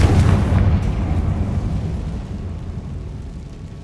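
A fiery blast spell in the wizarding game Hogwarts Legacy goes off with a loud, close boom that swells at once and then trails into a long, deep, fading rumble.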